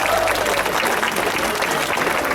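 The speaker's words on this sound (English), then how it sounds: "it's kind of rude to applaud at a funeral" Crowd applauding at a mock funeral for the Mean Streak roller coaster at Cedar Point amusement park, a loud, close, unbroken clatter of many hands clapping outdoors.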